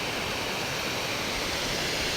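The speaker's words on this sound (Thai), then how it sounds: "บรรยากาศทั้งเสียงน้ำตกครับ" Steady broadband rushing of a waterfall spilling into a forest stream at a fishing spot, a continuous even wash of water with no voices.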